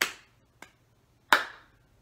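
Three sharp hand claps in a classroom clapping game, a loud first clap, a quick softer one, then another strong clap after a pause, each crisp and alone with no talking.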